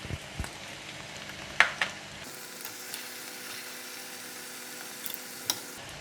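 Tomato puree frying in a pan while being stirred, a quiet steady sizzle with a few spoon scrapes and clinks, fairly faint with no talk.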